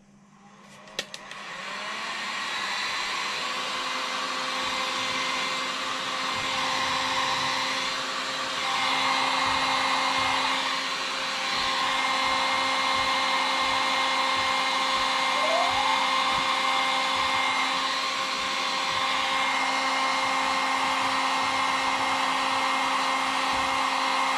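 Heat gun blowing steadily on a groove in a plastic chassis protector for an Arrma RC car, a continuous loud fan-and-heater whoosh held at an even level from start to finish.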